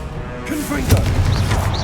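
In Hogwarts Legacy, the Confringo spell fires off as a deep booming blast followed by crackling magical bursts and whooshing spell effects, loud and close, while a voice also speaks over the action.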